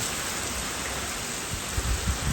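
Steady broadband hiss of rain, continuous and fairly loud, with a few low thumps near the end; no voices.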